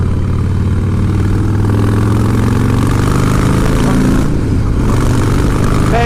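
A 2016 Harley-Davidson Breakout with a Stage 1 upgrade pulls hard on a motorway, its loud, steady low engine rumble building under constant wind noise.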